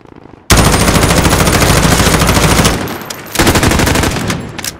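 Video game gunfire bursts in, loud and close, as sustained rapid automatic fire, briefly drops away, then resumes with another dense volley.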